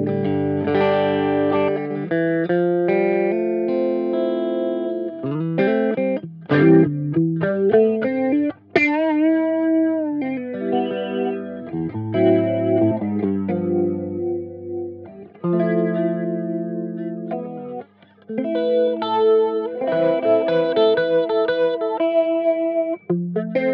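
Electric guitar played through the presets of a Hotone Binary MOD modulation pedal and an amp sim, sustained chords and melodic notes with swirling chorus, echo and reverb effects, loud and close with no talk.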